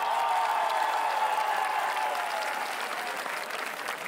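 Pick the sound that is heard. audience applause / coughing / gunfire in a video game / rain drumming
audience applause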